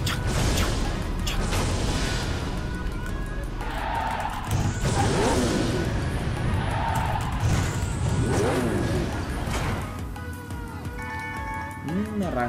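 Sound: motorcycle engine with boost, video game

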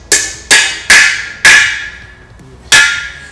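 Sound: hammering freeze plug into Cadillac 390 engine block

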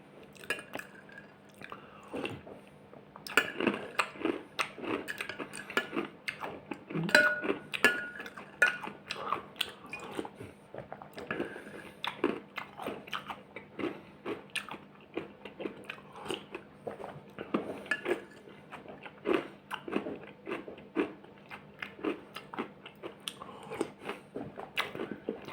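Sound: chewing crunchy breakfast cereal

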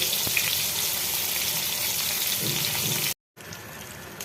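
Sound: eggplant pieces frying in a pan

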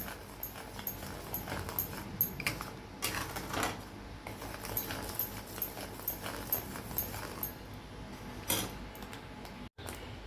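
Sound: gram flour batter bubbling and sputtering

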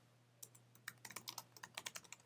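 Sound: typing a password on a computer keyboard

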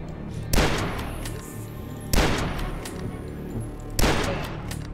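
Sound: gunshots from a video game

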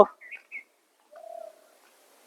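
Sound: dove cooing on Ghoramara island

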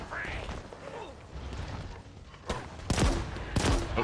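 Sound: gunfire in Halo Infinite video game

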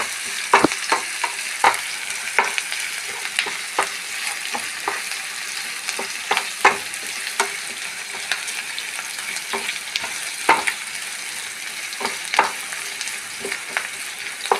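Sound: green chilies frying in oil in a pan

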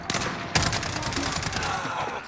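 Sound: gunfire in Modern Warfare video game

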